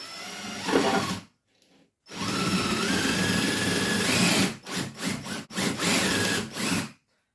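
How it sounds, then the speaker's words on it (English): A power drill whirs into wood for a children's chair in two long runs, separated by a brief pause, then stutters in short bursts before stopping; close and fairly loud. "we're going to drill a hole partway through this piece of wood here"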